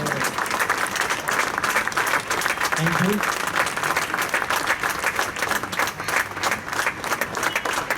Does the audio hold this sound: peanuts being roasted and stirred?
no